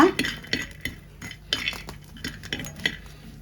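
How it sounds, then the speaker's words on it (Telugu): A spoon stirs peanuts and sesame seeds frying in a pan over a medium flame, giving rhythmic scraping and light clinking strokes close by, with no talk. "కొంచెం మీడియం ఫ్లేమ్లో పెట్టుకొని వేయించుకోవాలన్నమాట"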